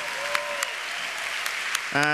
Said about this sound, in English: Please, let's give it up for the second place.